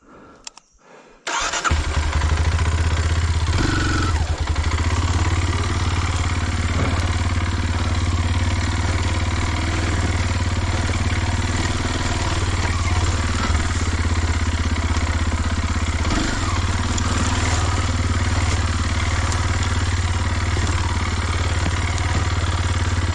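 A motorcycle engine catches after a brief cranking sound, then idles loudly and steadily with a low, rumbling throb, close by.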